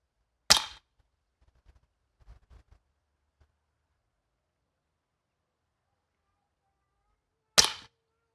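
Air rifle pellets striking 12mm hardwood plywood in a DIY backbox: two sharp cracking shots several seconds apart, with faint soft knocks between them and quiet otherwise.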